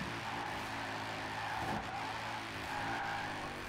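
Tires squeal and skid on a Mercedes C63 AMG drifting in Forza Horizon 4, under a steady, loud turbocharged engine roar that holds for several seconds.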